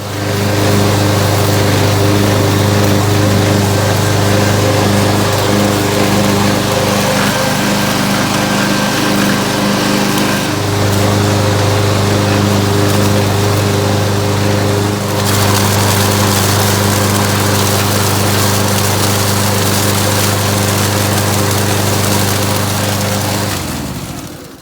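A push lawn mower's small engine runs steadily and loudly for the whole stretch, a close, constant buzzing drone with slight changes in tone and no speech.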